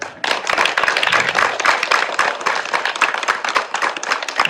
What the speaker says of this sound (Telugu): నేను అన్నాను గట్టిగా చప్పట్లు కొట్టమని.